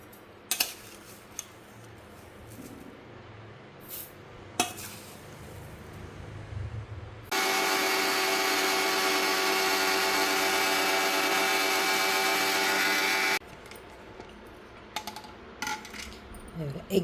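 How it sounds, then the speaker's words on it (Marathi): A mixer grinder grinds cooled roasted cumin seeds into powder in a home kitchen, a loud, steady whirring roar of about six seconds, bracketed by quieter kitchen clatter and tapping before and after. "आता ह्याला मिक्सरमध्ये बारीक करून घेते."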